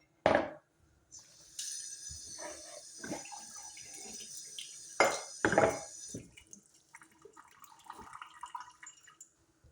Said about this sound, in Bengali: এখন আমি নাড়াচাড়া করলাম